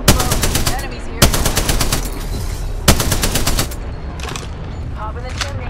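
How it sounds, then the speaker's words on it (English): Rapid automatic gunfire from Apex Legends gameplay, loud and close: three long sustained bursts with sharp onsets, followed by scattered shorter shots and bursts, with faint voice chatter underneath. "Opening fire on the enemy."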